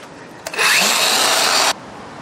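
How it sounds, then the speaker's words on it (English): An angle grinder's cut-off disc used as a grinding disc, a bright loud rasp of just over a second against steady background noise, with a brief tap just before. "very, very carefully using a cut-off disc as a bit of a grinding disc"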